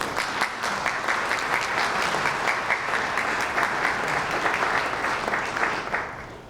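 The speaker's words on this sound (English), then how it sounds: "Round of applause." A crowd claps steadily for several seconds, full and continuous, tapering off slightly at the end.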